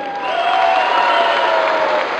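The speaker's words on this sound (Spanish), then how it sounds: "A ver, los aplausos para él." Audience applause at a live comedy show, a short burst of clapping that swells quickly and holds steady, fairly loud and close.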